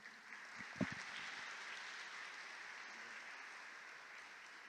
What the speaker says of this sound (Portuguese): Vamos bater palmas para o Ari e para a Fabiana